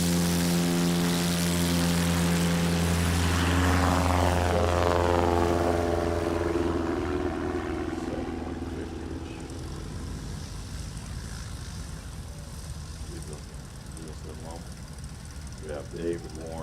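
A STOL propeller airplane at a Music City STOL competition in Gallatin, Tennessee, roars loudly at full power for takeoff, its engine tone sweeping as it pulls away and fades into the distance, with an announcer talking over it.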